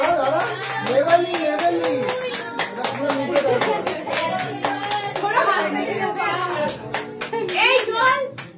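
Hands clap in a steady run of sharp strikes at a home birthday cake cutting, under continuous chatter and children's voices.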